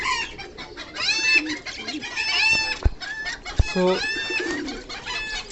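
Black and white fantail pigeons feeding a small chick in a clutch, with busy overlapping cooing, clucking and squeaky begging calls close by, plus a couple of sharp knocks and a brief spoken word.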